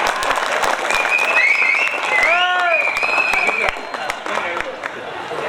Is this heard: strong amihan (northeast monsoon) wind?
no